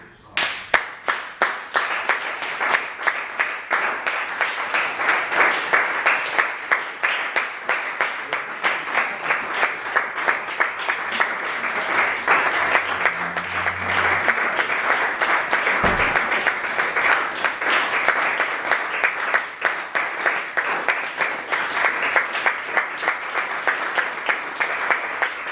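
A church congregation at a youth service claps and applauds steadily for nearly half a minute, a dense, loud, continuous patter of many hands with faint talk briefly underneath.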